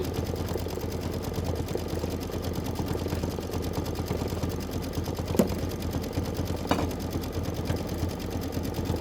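An embroidery machine stitches out an ornament block for a quilt, a steady, fast mechanical whir and rapid needle ticking running continuously at close range with two brief sharper clicks, no talking.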